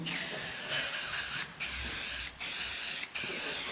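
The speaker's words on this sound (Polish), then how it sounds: "Przemyjemy to specjalnym płynem do elektroniki." Electronics cleaning fluid sprayed from a can onto an Opel Astra instrument cluster makes a close, loud hissing spray. It comes in four bursts, each broken by a brief gap, with no talk.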